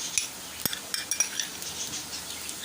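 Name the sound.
garlic paste stirred into softened onions in a pan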